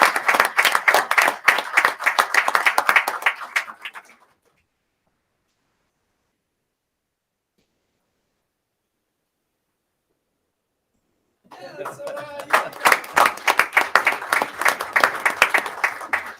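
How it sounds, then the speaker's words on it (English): Board meeting audience in a school district boardroom applauds honorees, two bursts of loud, dense clapping from many hands separated by a long silent gap. "let's hear a huge round of applause"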